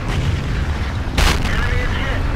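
A Jagdtiger tank gun fires once in World of Tanks, a single sharp, loud boom cutting through a low engine rumble, with a brief echoing tail after the blast.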